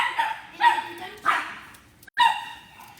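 A puppy gives four short yipping barks in quick succession with brief pauses between them, close and fairly loud.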